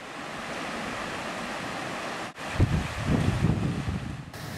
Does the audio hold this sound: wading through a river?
yes